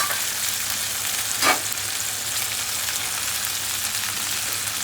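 Chicken leg pieces frying with onion and ginger, a constant crackling sizzle at moderate level with one brief louder scrape or splash midway, no voices.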